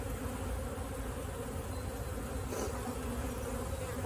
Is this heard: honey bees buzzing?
yes